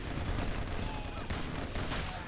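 Rapid, dense gunfire from the video game MicroVolts rattles continuously and loudly, a steady fusillade of shots in a game match.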